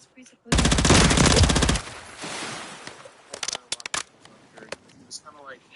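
Modern Warfare 3 machine gun fire bursts out in a loud, rapid rattling stream for about a second, then gives way to scattered shots, clicks and quieter game sounds, with a voice talking underneath.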